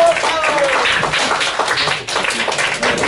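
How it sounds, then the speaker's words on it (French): An audience at a panel discussion on schools and new technology breaks into sustained clapping, brisk and close, with voices mixed in over the applause. "Moi, je propose qu'on applaudisse"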